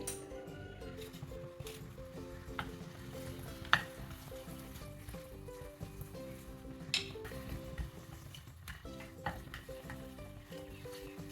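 Two small pieces of asafoetida frying on a low flame in sesame oil for a curry leaf pickle, giving a soft, steady sizzle with occasional light stirring clicks, no talking.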